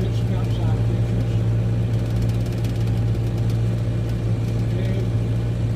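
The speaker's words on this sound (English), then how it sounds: "I got the GoPro strapped to the top of the tractor" Tractor engine runs steadily at close range during a hay run on a rainy, cloudy day, a constant low rumble with no talk over it.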